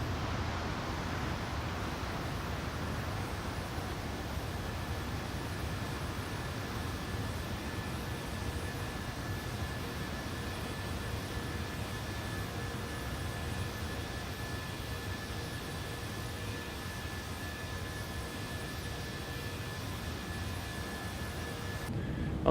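Steady broadband jet roar heard from inside a Boeing 757 airliner during its departure climb, a continuous engine drone with faint tonal whine, constant and unbroken for the full length with no talk.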